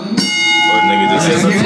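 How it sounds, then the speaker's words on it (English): A boxing match bell rings with steady sustained tones over crowd noise and ongoing talk, loud and close throughout. "5. It's a great match. Bell."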